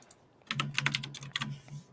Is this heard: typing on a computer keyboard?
yes